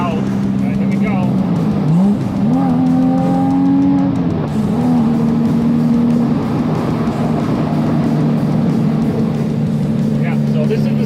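A Porsche 987.2 Boxster with a SOUL valved street exhaust, heard from inside the cabin with the windows open, revs loudly with a deep throaty drone that climbs and settles, steady and close throughout.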